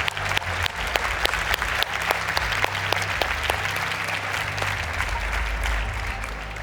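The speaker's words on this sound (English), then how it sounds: "let's give them one final round of applause" A large audience at the Slush 2025 startup event claps for the volunteers, steady sustained applause with sharp individual claps standing out, loud and close, with faint crowd murmur beneath.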